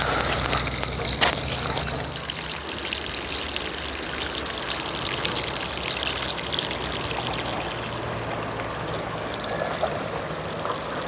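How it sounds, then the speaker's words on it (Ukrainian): Waste water gushing steadily from a pipe into a river, a continuous broad rushing pour heard close and fairly loud throughout, with a faint low hum underneath. "Ось сюди в річку щось явно стікає."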